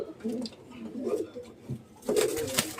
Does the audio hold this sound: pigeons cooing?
yes